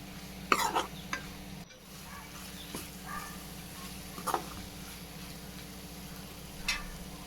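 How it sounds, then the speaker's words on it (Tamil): Masala sautéing in oil in a pan makes a quiet, low sizzle. Scattered scraping stirs and clinks of a spoon against the pan sound up close, with a sharp clatter near the start. "எண்ணெயில் நல்லா வதக்குங்க"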